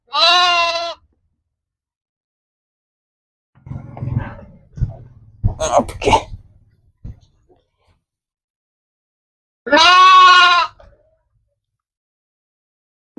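Two loud, wavering bleats from three-week-old Nari Suvarna lambs ring out near the mic, one at the start and one later, with someone speaking in between.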